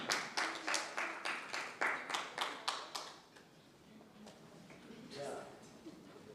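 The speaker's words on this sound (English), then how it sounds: "can you clap?" Rhythmic group clapping at an exchange-program event, about ten strong, regular claps in unison like a steady beat for about three seconds, then quieter room sounds with a voice briefly speaking.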